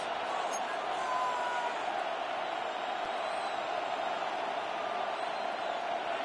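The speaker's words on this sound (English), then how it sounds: "The crowd making their presence felt." Stadium crowd roar from the Madden NFL football video game, a dense, steady wash of cheering that holds at a constant level throughout, with scattered whoops rising out of it.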